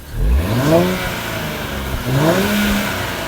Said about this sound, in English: I'm just going to rev it so that you can hear a bit of the exhaust note.